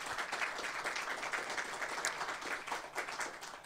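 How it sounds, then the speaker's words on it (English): Forum audience at the Fall Forum 2022 applauds its panelists with a dense, continuous wash of many hands clapping, heard fairly faint and somewhat distant, with no talking over it. "Let's give them a round of applause."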